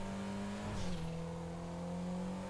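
A tuned Pegassi Panto in GTA Online, its small engine holding a steady drone with a brief rev surge and pitch shift as it changes gear, loud and close with no talk over it.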